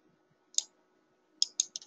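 Computer mouse clicks while drawing in Photoshop: one sharp click, a pause, then a quick run of four crisp clicks, close and clear over near silence.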